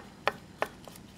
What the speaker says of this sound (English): chop that up. Little chop.